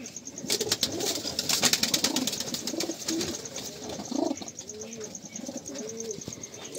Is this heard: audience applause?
no